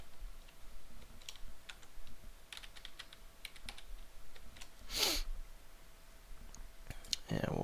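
Fingers type on a computer keyboard while entering a fake email address and password, producing scattered quiet clicks and short bursts of keystrokes in a hushed room, with one louder clack near the end.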